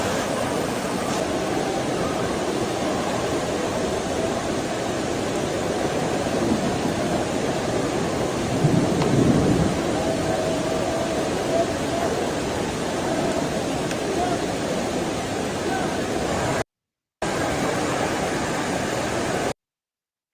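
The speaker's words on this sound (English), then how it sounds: "Heavy rain inside Masjid al-Haram." Heavy rain falls at Masjid al-Haram in Mecca, a dense, constant broadband hiss with no distinct thunder, steady throughout with brief dropouts.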